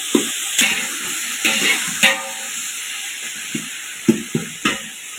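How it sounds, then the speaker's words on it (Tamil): Tomatoes and onions sauté in a pan, a bright steady sizzle broken by repeated scraping and clattering stirring strokes, close and fairly loud. "தக்காளி வதக்காச்சு"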